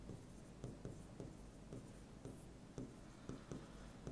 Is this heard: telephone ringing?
no